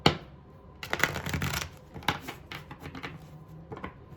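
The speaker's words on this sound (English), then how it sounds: "All right, one more shuffle and then I'm done." Tarot cards are shuffled by hand in quiet bursts of soft, rapid papery flutters and taps, with short pauses between handfuls.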